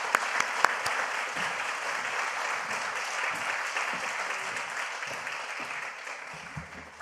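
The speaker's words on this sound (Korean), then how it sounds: "환영합니다 박수로 모시겠습니다." Congregation applause in a church welcoming the pastor to the front during an autumn revival service, a steady dense clapping that fills the room for about seven seconds and slowly tapers, with no talk over it.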